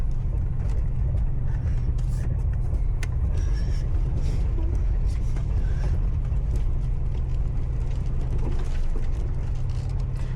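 A car pushes through thick mud and brush in the Auvergne countryside, a continuous loud rumbling churn of engine and scraping with steady low drone and occasional thumps throughout.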